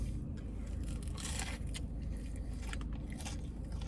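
Crunchy bites into KFC fried chicken, crackling crisply up close in several quick bursts, with no talking.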